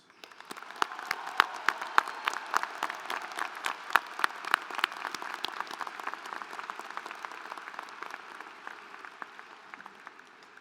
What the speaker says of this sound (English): Please join me in showing them an appreciation with a round of applause.